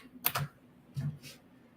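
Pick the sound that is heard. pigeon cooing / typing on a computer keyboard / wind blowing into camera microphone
typing on a computer keyboard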